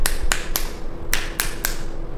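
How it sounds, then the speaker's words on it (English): Six sharp finger snaps during a chiropractic neurology check, crisp and close, in two groups of three at an even rhythm against a faint steady hum. "I'm just gonna snap my fingers."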